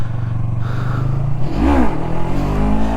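Close-up revving of a Yamaha MT03 motorcycle in a parking lot: a steady engine drone, then a quick throttle blip that rises and falls in pitch before settling back to a running hum.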